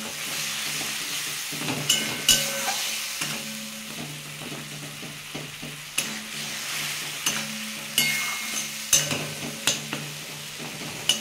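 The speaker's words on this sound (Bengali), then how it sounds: "এটা ভালো করে কষিয়ে নেব।" Cut rohu fish pieces with a little masoor lentil, water and spices sauté in a pan, a steady sizzle broken by repeated scraping spatula strokes and metallic clinks every second or so, close and unaccompanied by talk.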